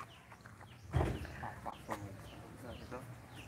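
Hens cluck in short bursts near a person speaking, with one louder squawk rising above the background chatter.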